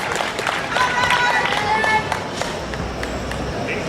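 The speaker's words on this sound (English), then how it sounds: "A round of applause as she steps out here." Applause and crowd cheering at a powerlifting meet as a female lifter steps out for her third deadlift attempt, steady clapping mixed with shouts and voices throughout.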